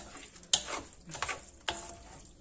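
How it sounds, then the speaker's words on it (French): Paella rice stirred in a pan, a few soft scraping strokes with a faint sizzle, quiet and close, with no voices. "je vais remuer un petit peu"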